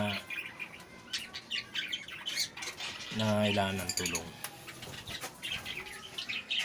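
Pet birds squawk and chirp in bright, repeated calls, with someone speaking briefly over them.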